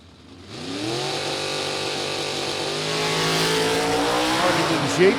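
A GTI automatic drag car at an NHRA Sportsnationals race launches and accelerates hard, its engine rising in pitch through a long roaring pull, loud and close, while an announcer talks over it.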